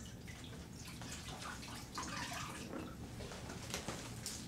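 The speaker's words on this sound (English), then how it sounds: "and then the sock is dipped into water" A sock is dipped into room-temperature water, making soft sloshing and trickling sounds with a few drips, close by and alone.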